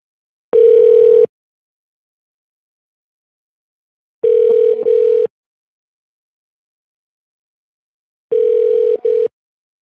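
A telephone line tone heard while a call is dialed: three evenly spaced, steady electronic tone bursts, each under a second long and separated by about three seconds of silence. The tone is loud and close, with no talking.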